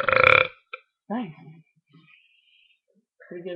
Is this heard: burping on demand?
yes